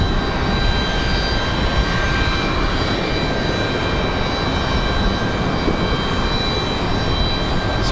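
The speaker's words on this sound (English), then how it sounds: "This one's a United Express CRJ 550." A United Express CRJ 550 regional jet at Raleigh Durham airport gives off a loud, constant engine roar with a thin high whine, holding steady throughout with no voices.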